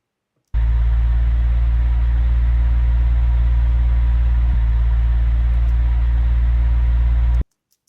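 Looped recording of an ordinary fan: a loud, steady low hum with a whirring hiss above it, starting abruptly and cutting off just as suddenly.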